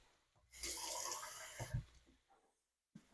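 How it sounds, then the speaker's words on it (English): Water pours for about a second into a cooking pot with tomato sauce and corned beef, with a rushing splash, then stops, followed by a brief clunk and quiet. "Now I'm going to top it off with water."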